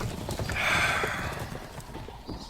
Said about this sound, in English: ALOF and the knights ride away